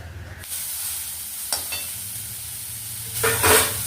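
Onions sizzle steadily in a hot pan while a utensil stirs them, with a few scraping strokes and a louder burst of hissing near the end.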